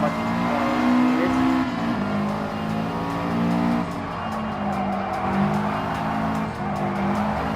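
Race car engine in Gran Turismo Sport, a JDM N300 car at Tsukuba Circuit, drones loudly and steadily, its pitch climbing and dropping through gear changes while the tires squeal.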